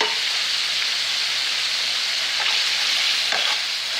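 Onions and chorizo fry in a pan for cheesy Velveeta spaghetti, giving off a loud, dense, continuous sizzle with a few faint clicks under it.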